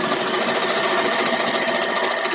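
A sewing machine runs a side seam using stitch setting number 2, a fast, steady mechanical whir and rapid needle chatter continuing without pause, loud and close.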